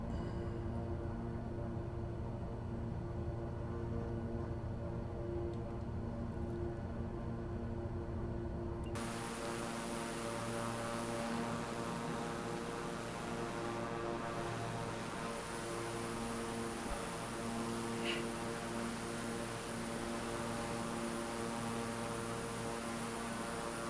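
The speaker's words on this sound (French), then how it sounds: "c'est un avion qui vole bien" Embraer 121 Xingu turboprop in flight, heard as a steady, loud engine drone with a constant hum that shifts slightly in tone about a third of the way through and then holds evenly to the end.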